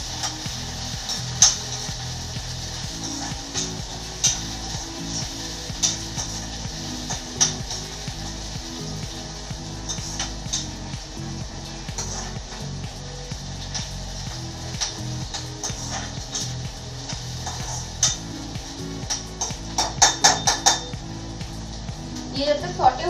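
Onions and peas sauté in hot oil for a brinjal masala, giving a steady soft sizzle broken by occasional clinks and stirring taps of a utensil against the pan, while someone talks over it.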